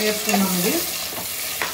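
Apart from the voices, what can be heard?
curry leaves, green chillies and onions frying in hot oil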